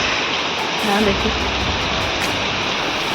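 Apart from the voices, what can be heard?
heavy rain pouring over hillside fields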